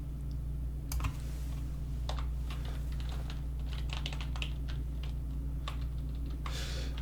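Fingers type on a computer keyboard while someone writes Python code, a run of quick, light key clicks in irregular bursts over a steady low hum.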